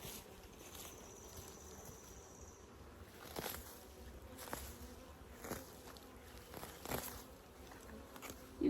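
Honeybees buzz around a hive in an outdoor yard among weeds, a faint, soft, continuous hum with a few brief louder passes as single bees fly close.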